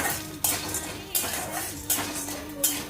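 Popcorn kernels stirred in a hot pan at home, a utensil scraping and clinking against the metal in repeated strokes about every 0.7 seconds over a soft steady sizzle, close and moderately loud with no talking.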